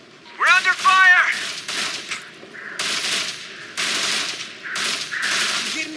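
Sustained automatic gunfire from the Operation Flashpoint: Red River video game, bursts of rapid crackling shots mixed with a shouted voice near the start, loud and close.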